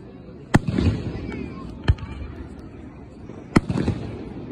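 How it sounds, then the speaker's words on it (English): Fourth of July fireworks bursting over Old Natchez, with three sharp distant bangs, each followed by brief crackling, heard over a low outdoor murmur. "you can see the smoke when the light bursts from all the other fireworks"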